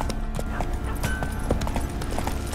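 Rhythmic hoof clip-clop of a galloping horse in The Witcher 3 video game, steady and close under a low game background hum.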